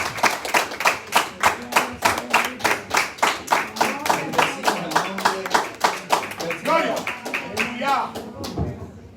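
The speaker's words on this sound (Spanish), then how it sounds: "Den un aplauso al Señor" A church congregation claps in steady, rhythmic unison in praise, a long run of sharp, evenly spaced claps that is close and loud, with voices singing or talking underneath and a brief pause near the end.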